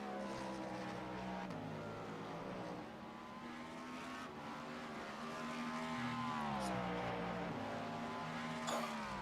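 A big V8 race car engine in the iRacing sim during the 24 hours of Monza drones steadily, its pitch climbing and dropping through gear changes, loud and continuous with no voices.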